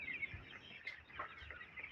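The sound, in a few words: broiler chicks a few days old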